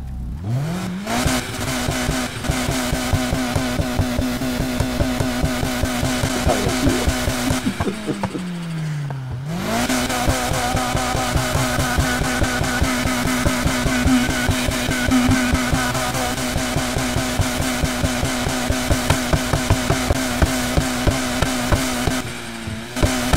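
A car in the Need for Speed Heat video game, set to an aggressive exhaust sound, revs repeatedly: loud, rising and falling engine roars with crackling exhaust pops, a brief drop near the middle, then sustained revving.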